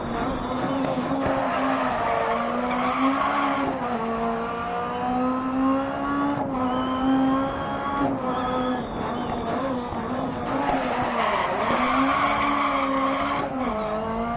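Engine of a rally car in DiRT Rally revving hard with its wheels spinning, a loud continuous whine whose pitch climbs and dips, with tire scrabble and gravel ticks throughout.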